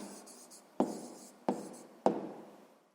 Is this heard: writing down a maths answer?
yes